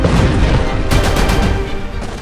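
Explosions shake Damascus in news footage, a loud, dense roar of blasts and booming rumble, with a sharp crack of impacts around the middle.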